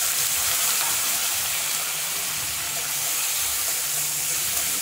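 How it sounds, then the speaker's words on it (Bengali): Onion and green chili hit hot mustard oil in a wok for Bengali aloo puri filling, giving a loud, steady, close sizzle of frying that holds evenly throughout, with no talking. "এই যে কড়াইতে দেখেন আমি সরষের তেল দিয়ে দিয়েছি, তেলটা গরম হয়ে গেছে, এর মধ্যে দিয়ে দিচ্ছি পেঁয়াজ আর কাঁচা লঙ্কাটা।"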